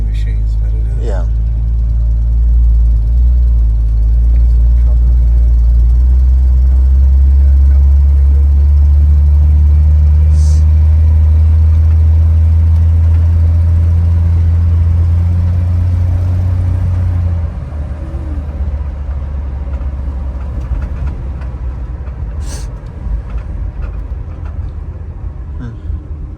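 A 1965 AMC Rambler Marlin engine idling nearby, a loud, smooth, steady low rumble that continues for most of the clip and then drops to a softer hum, with people talking over it.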